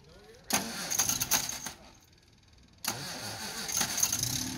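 A car engine on an MG TD cranks and fires, catches briefly, pauses, then starts again and settles into a close, smooth idle.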